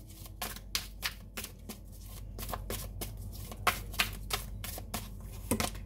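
A deck of tarot cards is shuffled by hand in quick, soft riffling bursts separated by brief pauses, close and quiet, with no voice.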